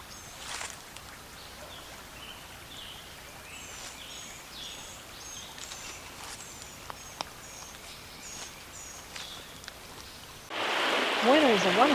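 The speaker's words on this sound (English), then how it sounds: "You may want to just stop and listen to the creek going by and hear the birds singing." Steady gentle rush of flowing water from a creek, with scattered high bird chirps above it, ending in a louder burst of noise.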